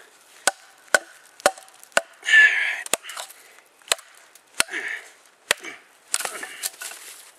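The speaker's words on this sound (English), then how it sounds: "I am hitting this tip pretty hard on this knife." Sharp, evenly spaced strikes from a CS Recon Scout knife chopping into wood with its tip, about a dozen crisp cracks with short scraping splinter sounds between some blows.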